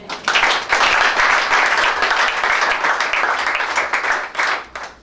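A church congregation applauds with loud, dense, sustained clapping close by, lasting about five seconds before tapering off at the end.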